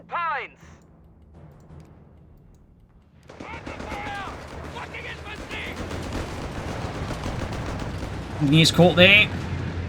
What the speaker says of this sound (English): Great shot there from the anti-tank gun right through the side arm of the L640.